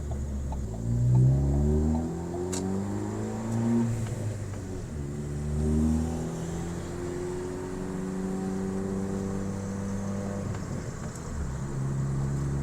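A Ford Focus ST with a newly replaced transmission is driven and accelerated through the gears, the engine rising in pitch with each gear, then dropping at each shift, under a steady interior road hum.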